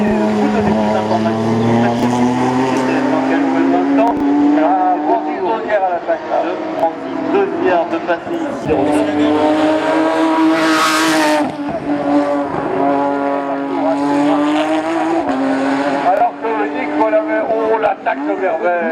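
Porsche race cars at the Hébécrevon hill climb, engines howling and shifting as they pass, rising and falling in pitch, heard under continuous excited commentary.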